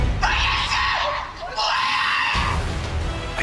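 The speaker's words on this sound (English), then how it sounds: "this sort of wail." An eerie, high wailing scream of the kind attributed to La Llorona, loud and sustained in two long rising-and-falling cries with a brief dip between them.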